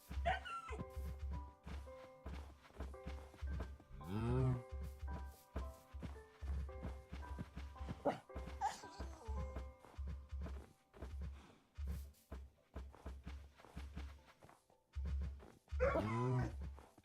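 Cows mooing in the video game Minecraft, several short in-game moos scattered across the clip over a rhythmic pulsing background beat, with footstep-like taps.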